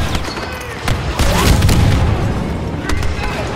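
Grenade explosion in a Star Wars video game battle at Mos Eisley, a loud, dense rumbling blast with crackling debris that sustains across the clip amid continuous battle noise.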